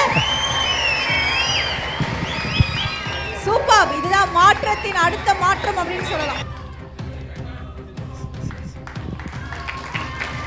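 Audience at a Tamil stage event cheers and claps in a lively burst midway through, with crowd noise and someone talking over it before and after.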